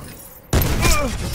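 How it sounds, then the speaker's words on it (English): A single loud gunshot fired through a wall in the Black Ops 4 beta, a sudden sharp blast that stays ringing and noisy afterward with game ambience behind it. "did you just shoot me through the wall?"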